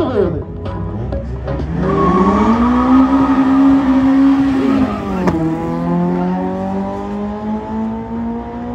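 Drag race cars launch one after another, engines revving hard with rising pitch and loud roaring acceleration, some tire noise, close and dominant throughout with voices faintly mixed in.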